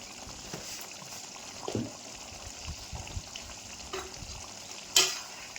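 Faint stirring and soft sizzling of palak paneer with ground cumin and coriander in a pan, with quiet scrapes and a small clink near the end, no voices.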